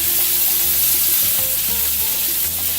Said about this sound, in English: just to get a little quick sear on those